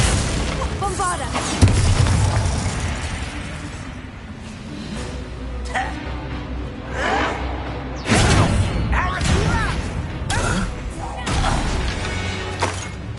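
Bombarda explosion spells from Hogwarts Legacy go off in booming bursts with whooshes and thuds, a big hit near 1.5 s and another near 8 s, over a busy game soundtrack with voices.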